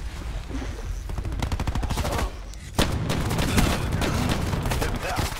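Rapid shotgun and automatic gunfire in the video game Call of Duty Black Ops 4, dense loud overlapping shots with a brief lull before the firing resumes.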